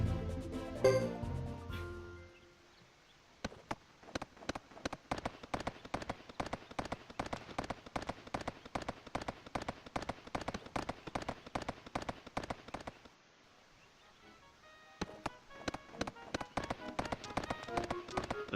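A horse gallops in the video game Suikoden 3, with rapid, evenly spaced hoofbeats in a steady rhythm that pause for about two seconds and then resume, after a brief musical jingle at the start.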